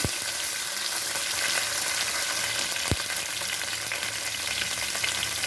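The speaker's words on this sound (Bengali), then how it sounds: "দুই টেবিল স্পুন রসুন বাটা গ্যাসটা কিন্তু কমানো আছে একটু নেড়ে চেড়ে নেব" Garlic paste fries on low heat in a pan for a yogurt catla fish dish, with a constant close sizzle and a single sharp utensil knock partway through.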